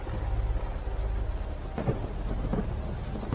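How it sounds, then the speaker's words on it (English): Rumbling thunder during a storm, a loud broad roll building in waves with a steady rain-like wash underneath and no talk. "thunder and lightning. Very, very, very frightening."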